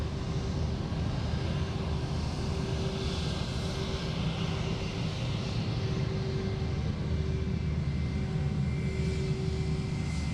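A Jetstar airliner at Sydney Airport produces a continuous, moderately loud jet engine rumble with a steady high hum, distant and unbroken, with no voices.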